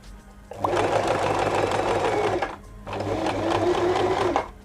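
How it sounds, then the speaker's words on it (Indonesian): A domestic sewing machine stitches zigzag at stitch length 4 and width 4, running in two steady mechanical bursts of rapid, even clatter with a short pause between them, close and loud. "kita praktek ke yang selanjutnya. Yaitu panjang jahitan 4, lebar jahitan juga 4."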